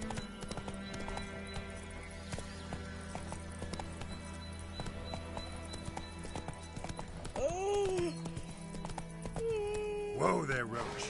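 Hooves clatter in a steady galloping rhythm as Roach runs in a PS4 game, a neigh rising near the end and speech layered over the hoofbeats.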